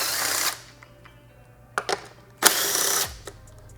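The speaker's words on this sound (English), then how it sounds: "We'll use a 10mm socket for the middle screws," A 10mm socket wrench works the middle screws of the seat tray on a 2021 Aprilia RS 660 motorcycle: loud bursts of ratcheting and whirring, close up, separated by brief quiet clicks and no talking.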